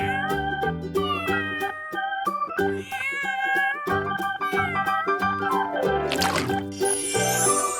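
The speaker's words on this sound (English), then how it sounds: "This is a cat." Cat meows repeatedly in short tonal calls over a busy music track, with a bright liquid pouring or trickling sound near the end.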